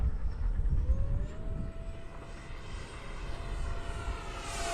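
An E-Flite Viper 90mm electric ducted-fan RC jet makes a downwind pass from left to right, a steady airy turbine-like whine whose pitch slides as it goes by, heard outdoors at moderate loudness with no talking.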